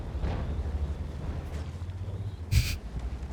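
A tank's main gun fires in World of Tanks, one sharp, loud blast standing out over a low, steady engine rumble.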